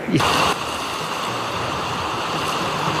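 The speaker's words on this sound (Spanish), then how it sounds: "Hoy el río suena arrastrando piedras a 14 metros de altura de lo que fue su normalidad" A river flooded some 14 metres above its normal level, rushing loudly and dragging stones in a steady roar, with a brief louder burst near the start and no talk over it.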